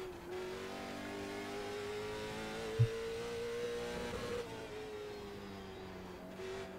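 A late model stock car engine revs in the iRacing sim, a steady droning mid-pitched note that holds and shifts slightly, with a single sharp knock partway through.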